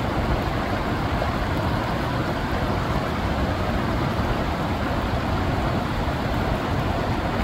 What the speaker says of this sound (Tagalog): Oh, lakas ng tubig.